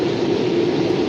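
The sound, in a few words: Norfolk Southern freight train passing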